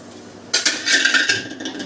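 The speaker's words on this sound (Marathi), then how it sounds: "तवा उतरते" A metal griddle pan clanks and scrapes against a hard surface as it is taken off the stove, followed by a few more clinks and rattles, close by with no talking.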